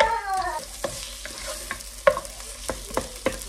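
Onion sautés in a pan, a soft sizzle under repeated clinks and scrapes of stirring spaced through the clip, close by, with no talking.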